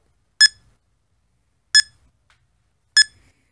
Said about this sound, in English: it'll start beeping the closer you get to it